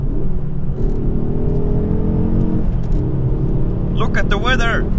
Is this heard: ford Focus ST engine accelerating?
yes